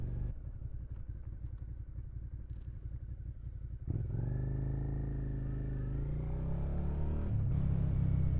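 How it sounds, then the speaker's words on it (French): A riding-school motorcycle passes close by, its engine rumble rising sharply and growing louder as the bike approaches, with a steady low drone carrying on to the end. "la moto-école elle passe là"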